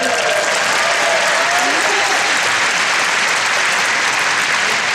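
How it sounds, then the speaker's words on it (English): Loud, continuous applause from a graduation ceremony audience, a dense roar of many hands clapping at full strength throughout, with faint voices briefly mixed in near the start. "Whenever you want cheap applause, just mention Coach Calhoun."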